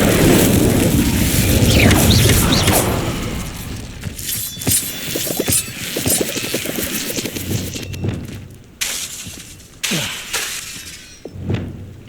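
An Incendio fire spell going off in Hogwarts Legacy, a loud roaring burst with crackling debris settling, followed by a scatter of sharp impacts and shattering hits with brief quiet gaps.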